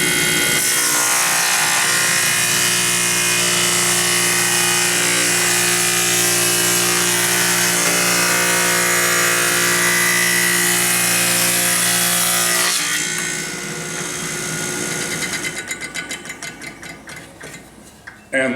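A power saw cuts through a 1.5 inch wooden board held in a three-bearing hold-down, running as a loud, sustained whine for about twelve seconds before spinning down through fading pulses.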